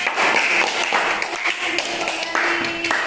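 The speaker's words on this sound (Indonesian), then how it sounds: "Beri tepuk tangan." A classroom of students claps together after a group presentation in a quick, irregular patter, near and moderately loud, with faint background murmur.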